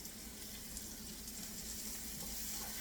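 Minced garlic sizzles in a pan for garlic butter pasta, a steady, close frying hiss that holds evenly throughout without any talking.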